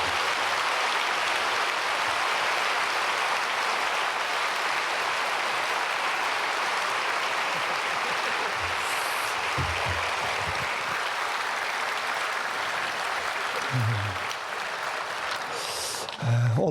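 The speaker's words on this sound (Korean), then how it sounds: "김 목사님 나오실 때 뜨겁게 박수로 맞이하겠습니다" Sustained congregational applause in a church at a Wednesday prayer service, welcoming a visiting pastor; a thick, steady wash of clapping that holds throughout, with a few brief knocks near the end.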